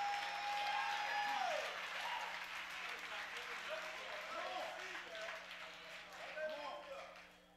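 A church congregation claps and cheers in a loud, sustained burst that slowly tapers off, with a preacher's voice speaking over the crowd noise.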